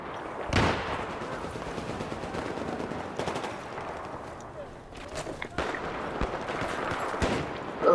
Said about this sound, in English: Something might be trying to mortar us now.